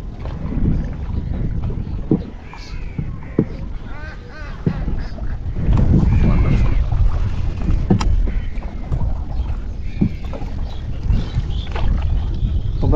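A small village rowboat moves on water, with soft paddle splashes and lapping close by, ducks quacking intermittently and faint voices in the background.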